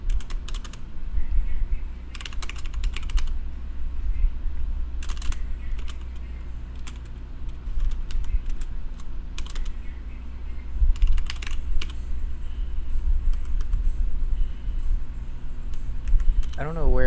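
Rapid, uneven clatter of computer keyboard keys as code is written, bursts of typing separated by short pauses over a low steady background hum.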